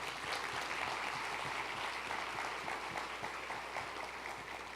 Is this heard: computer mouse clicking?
no